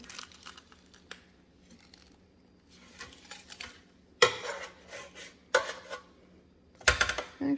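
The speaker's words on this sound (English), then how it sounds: "I'm going to flip it over carefully here." A whole chicken being turned over in an air fryer basket: quiet metallic clinks and scrapes of tongs and basket, then a few louder clattering knocks near the end.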